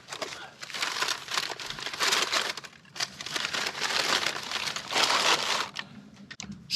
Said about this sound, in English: That crinkly paper.